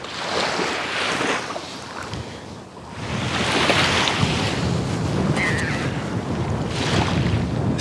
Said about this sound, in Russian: ветер холодный, восточный.